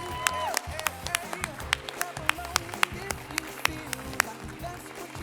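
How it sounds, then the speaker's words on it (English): A crowd of listeners at a YMCA annual celebration claps loosely and steadily, sharp hand claps repeating at a brisk uneven pace throughout. "please give them a round of applause right now"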